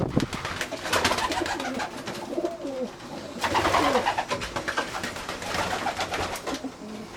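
Racing homer pigeons coo in a loft, several soft, rolling calls overlapping close by alongside fluttering and shuffling, with no talking.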